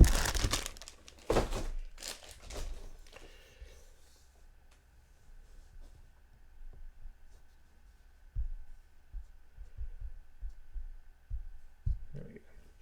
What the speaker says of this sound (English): I'm sorry for this sort of crinkling noise that you're getting